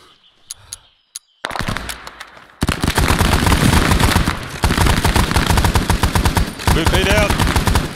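Loud, close bursts of automatic gunfire from the Arma 3 SOG Prairie Fire mod, starting with a few sparse shots before dense, sustained firing fills the rest, with faint voices briefly mixed in.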